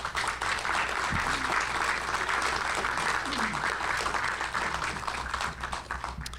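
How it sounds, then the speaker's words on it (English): A graduation ceremony audience at a law enforcement training graduation gives steady, continuous applause, moderately quiet and distant-sounding, with a low hum underneath and a few murmured voices. "So if you would you offer those folks a round of applause?"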